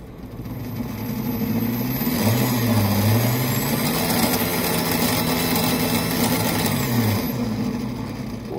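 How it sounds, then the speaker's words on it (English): Bafang BBSHD mid-drive e-bike motor at high assist, fitted with an ASI BAC800 controller running field weakening toward 10000 RPM: a loud, close whine that rises in pitch, holds steady, then falls away, with no talk. "Notice that the motor actually picks up speed at about halfway on the speedo through the, the rev range."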